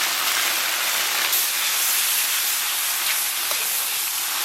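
Garlic, ginger, scallion and dried chili sizzle in hot oil over low heat for a spicy stir-fry, giving a steady, dense, close hiss that runs unbroken without any voices.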